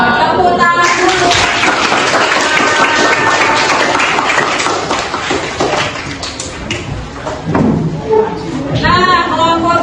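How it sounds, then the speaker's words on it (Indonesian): Students applauding in a classroom, a dense steady clatter of clapping lasting several seconds, with voices mixed in. "Tepuk tangan dulu."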